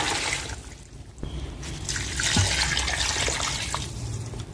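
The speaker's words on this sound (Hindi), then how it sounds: "इसमें हम 2 जग पानी डाल देंगे।" Two jugs of water poured into a cooking pot holding paya with onion, ginger and garlic, a loud close gushing splash that runs steadily throughout.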